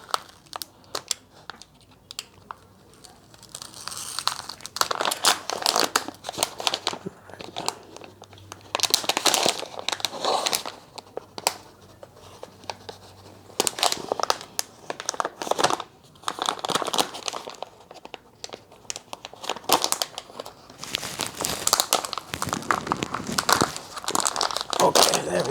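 Plastic packaging for a universal silicone bike phone mount being opened and handled, giving close, crisp crinkling and crackling in irregular bursts separated by brief quieter pauses.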